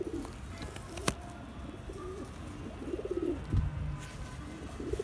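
Racing homer pigeons coo softly in a few low, rolling phrases against steady background noise, with one sharp knock early on.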